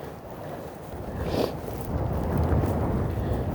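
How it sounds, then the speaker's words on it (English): Wind gusts buffet the microphone outdoors on a walk in Eastern Passage, Dartmouth, Canada, a rough low rumble that swells and builds toward the end, with no one talking. "No, because it's windy."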